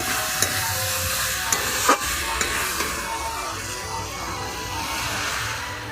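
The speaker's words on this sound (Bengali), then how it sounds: "এখন আমি দিয়ে দিচ্ছি জল" Water goes into spiced broccoli already frying in a pan, producing a loud, dense sizzle and hiss that runs unbroken throughout, with a few sharp utensil clicks and scrapes near the start.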